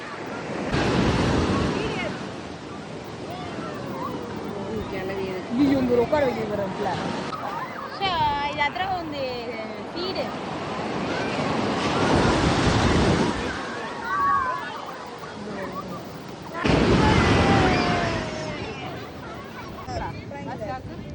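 Surf breaking on the shore at Neelankarai beach, with broad washing swells rising and falling repeatedly, wind buffeting the microphone, and people talking over the waves throughout.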